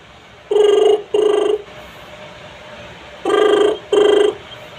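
A voice imitates a phone ringing with two pairs of short, bright, buzzing rings separated by a pause, close and loud.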